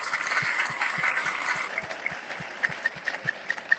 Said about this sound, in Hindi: तो एक बार जोरदार तालियां बजा लीजिए अपने लिए।